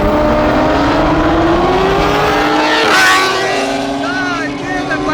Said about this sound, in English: that bike is going. The bike is flying